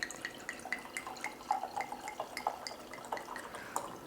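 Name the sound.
homemade pac wine being poured into a glass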